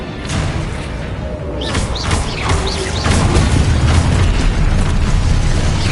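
Rapid spell explosions in the Hogwarts Legacy video game: loud overlapping bursts and booms with whooshing magic, continuous and dense throughout.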